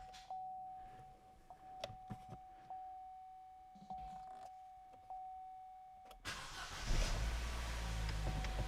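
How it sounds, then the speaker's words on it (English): A Chevy Cruze under repair for a coolant leak cranks and starts with a sudden loud surge, then settles into a steady, close rumbling idle after a few seconds of quiet clicks and a faint tone. "Let's go ahead and start her up"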